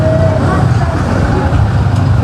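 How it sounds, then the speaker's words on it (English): Low rumbling traffic of big buses idling and moving along a busy town street at a morning market in San Juan del Sur, Nicaragua, steady and close, with faint background voices. "And there's a big bus here."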